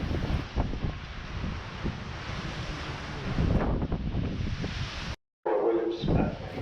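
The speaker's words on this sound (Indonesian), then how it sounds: "Angin terlalu kencang dan tidak memungkinkan bagi kapal untuk masuk ke Paradise Bay." A strong wind blows near Palmer Station in Antarctica, roaring and gusting against the microphone with rough buffeting bursts. A brief dropout breaks it near the end.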